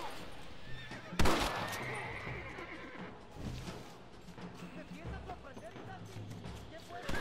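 A horse in the video game Red Dead Redemption gives a loud, close whinny, followed by snorts, hoof clops and scattered game sounds that continue quietly afterward.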